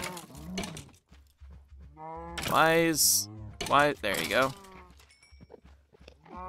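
Cows moo in the Minecraft video game, a few low calls heard over sparse footsteps and keyboard clicks while someone talks briefly.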